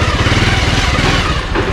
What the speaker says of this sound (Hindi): मेरा बाइक इतना लंबा है तो मैं एक बार में टर्न ले ही नहीं पा रहा हूँ, बैक करके लेना पड़ रहा है।